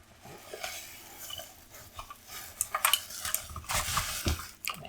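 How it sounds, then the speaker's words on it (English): The keys of a Redragon K552 keyboard still wrapped in bubble wrap clack and rattle close up in irregular bursts, with sharp plastic clicks building toward the end. "Hear those clacking keys already"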